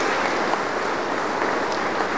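Applause from an audience at a formal ceremony, a dense, even wash of many hands clapping at once that holds steady throughout.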